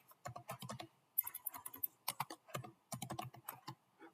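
Rapid computer keyboard typing during a React JS coding lesson, crisp close key clicks arriving in quick clustered bursts separated by short pauses, heard alone.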